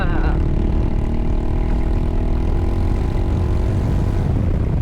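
A Zontes 400G motorcycle engine runs at night, tuned by its owner, giving a loud, steady drone that rises slightly in pitch at the start and holds throughout.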